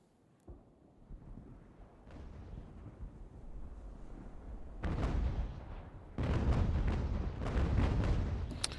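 Warships fire naval cannons in a video game battle set in the American Revolution, a series of deep booming blasts that grow louder and denser, with heavy rumbling salvos toward the end.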